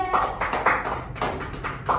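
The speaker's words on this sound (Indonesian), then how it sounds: "tepuk tangan untuk kelompok 3" Classroom applause for a student group after their presentation in an elementary school social studies lesson, coming in short uneven bursts of clapping separated by brief pauses.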